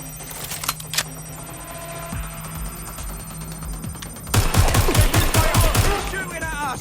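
Gunfire in the video game Watch Dogs Legion: a rapid burst of automatic shots erupts loudly after a stretch of quieter background sound, mixed with other game effects.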